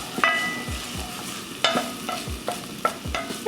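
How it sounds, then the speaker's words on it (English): Onions sizzle steadily in a hot pan while a spoon stirs them in a few distinct scraping strokes, close and fairly quiet, with no voices. "Just give those a stir as they start to sizzle."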